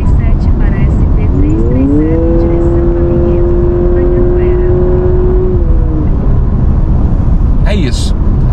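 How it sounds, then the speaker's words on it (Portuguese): An eleventh-generation Honda Accord hybrid's engine roars loudly and climbs in pitch as it accelerates, holding a strained tone for several seconds before dropping off. "A velocidade sobe, mas é mais um grito mesmo do motor do que qualquer outra coisa"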